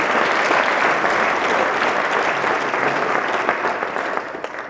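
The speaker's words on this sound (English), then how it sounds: "First thing I want to do is have a big round of applause" A loud, full round of audience applause at a business forecast event, dense and continuous, swelling at first and then gradually tapering toward the end.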